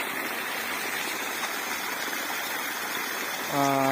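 Water pours steadily out of a pipe pumped without electricity or a motor, a constant rushing gush that swells slightly near the end as a voice begins.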